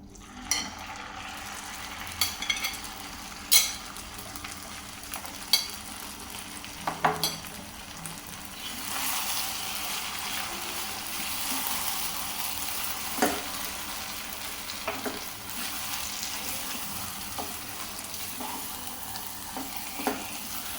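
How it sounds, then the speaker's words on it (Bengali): Milk and egg mixture poured into vermicelli frying in a pan, a steady hissing sizzle that swells after a few sharp clinks and stirs, close and continuous with no voices. "আমি এখন এই যে দুধ আর ডিমের মিশ্রণটি দিয়ে দেব।"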